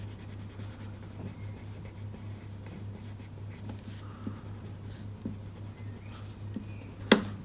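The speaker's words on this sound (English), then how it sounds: "I'm adding a little bit more pencil down with this one here" Soft, steady scratching of a pencil moving across paper, quiet and close, over a low constant hum, with a sharp tap at the end.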